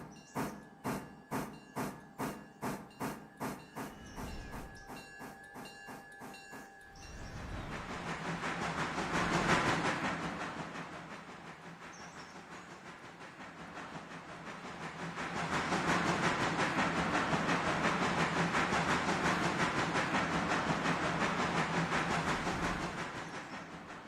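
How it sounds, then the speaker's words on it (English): Locomotive running in a modded train video game: a rapid series of rhythmic chuffs at first, then a sustained rumbling, hissing run that swells and fades as it rolls on, no talk. "Oh, yeah. I like this locomotive."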